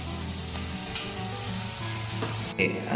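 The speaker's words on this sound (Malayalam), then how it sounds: "നമ്മൾ ഉള്ളിയൊക്കെ ഒന്ന് ചെറുതായിട്ട് വഴണ്ട് വരുന്നുണ്ട്" Onions sizzle loudly and continuously in a hot pan, a dense frying hiss with occasional stirring scrapes near the end.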